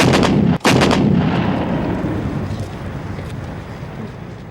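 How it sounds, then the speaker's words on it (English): Artillery guns fire during the 1999 Kargil War: a loud, close pair of heavy blasts in quick succession, then a long rumbling decay and echo rolling away across the mountains. "In one crucial assault, 100 guns concentrated their fire at one point"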